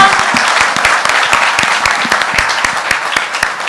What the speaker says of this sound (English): can we have one final round of applause for the Vespa Red and the Red Revolution?